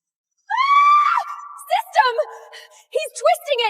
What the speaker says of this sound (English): I screamed into the dark behind my eyes.